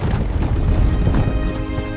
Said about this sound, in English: They leaped onto their escape horses, ready to ride for freedom.